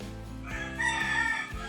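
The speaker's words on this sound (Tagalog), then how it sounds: "Nagising na ang mga manok." Roosters crow in quick succession close by, a drawn-out harmonic call rising and falling, with another crow beginning at the end over a low background.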